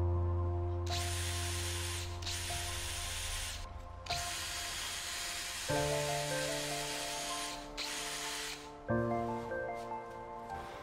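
Power drill boring a hole through an HMR board on a table saw crosscut sled to seat an M6 T-nut, a steady loud whine with pitch shifts as the bit loads and frees, running alone for about eleven seconds.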